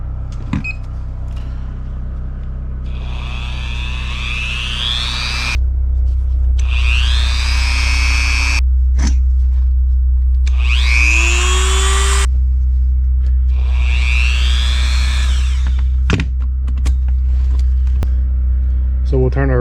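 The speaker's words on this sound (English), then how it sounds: "The only thing I have with a plug in this cabin is this little Dremel tool." A small Dremel rotary tool runs in a cabin, its motor whine rising and falling in several distinct bursts with pauses between, over a steady low hum.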